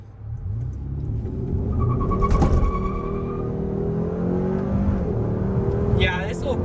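A Hyundai Sonata N Line accelerates hard through the gears, its engine note rising and swelling loudly from inside the cabin, with a brief shift and someone speaking over it.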